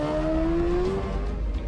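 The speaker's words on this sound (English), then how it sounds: "Now here, bike engines." Sidecar racing outfits at the Isle of Man TT accelerate off the start line, one engine note rising in a clear, loud whine against a rough mechanical roar.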